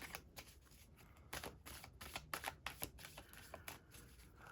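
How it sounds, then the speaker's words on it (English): A deck of tarot cards gets a quick shuffle close up, with soft riffling and flicking bursts of papery clicks in an irregular rhythm, faint and with no one talking. "I'm just going to do a quick shuffle on screen"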